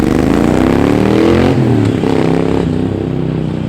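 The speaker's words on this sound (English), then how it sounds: "the Vance Hines pipes that I fitted, the US spec ones, without the baffle and with the Free Spirit X pipe, sound fantastic" Triumph Street Twin motorcycle with US-spec Vance & Hines pipes run without baffles and a Free Spirit X-pipe, revving loudly up close in one steady burst that eases slightly toward the end.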